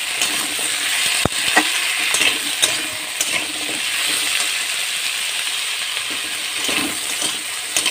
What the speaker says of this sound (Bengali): পুঁই শাক যত এইভাবে দিয়ে নাড়তে থাকবে, আর পুঁই শাকে একটু তেল বেশি দিতে হবে